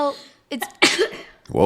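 A little girl lets out a single sharp sneeze close to the microphone, a loud burst set between snatches of talk from others in the room.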